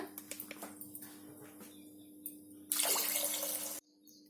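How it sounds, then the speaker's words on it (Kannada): Water pours into cooked lentils in a pressure cooker for bisibele bath: a few light drips, then a steady rushing splash for about a second that stops abruptly, close and quiet, with no talking. "ಈಗ ಬೇಯಿಸ್ಕೊಂಡಾಗಿದೆ, ಇದಕ್ಕೆ ಸ್ವಲ್ಪ ನೀರನ್ನ ಹಾಕೊಳ್ಳೋಣ"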